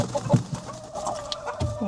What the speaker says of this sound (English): Oh, she got mad at me. So these are chickens that are brand new layers